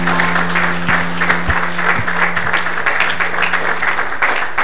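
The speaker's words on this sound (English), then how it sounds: "Give the Lord a hand clap of praise." Congregation clapping hands in praise at a Sunday morning camp meeting, steady crowd applause with some sharp individual claps over a low organ or keyboard drone, moderately loud and continuous.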